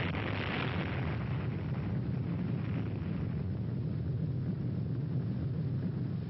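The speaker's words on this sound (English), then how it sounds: "you will see 2 views of the atomic bomb explosion taken from the observer ships approximately 20 miles from Bikini Lagoon" An atomic bomb explosion at a nuclear test in Bikini Lagoon, watched from observer ships about 20 miles away, rolls as a sustained, muffled low roar on an old, band-limited recording, with no talk.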